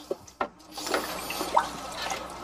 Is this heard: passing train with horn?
no